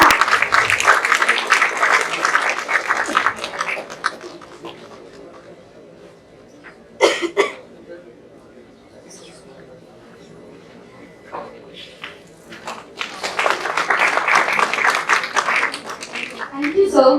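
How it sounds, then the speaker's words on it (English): An audience at an HR conclave at a business school claps in a dense burst of applause that fades into quieter room noise and scattered sounds, then swells into a second round of clapping. "Give a big round of applause for Mr. Rohit Sinha."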